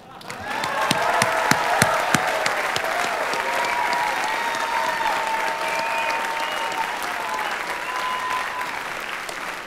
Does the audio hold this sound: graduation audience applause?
yes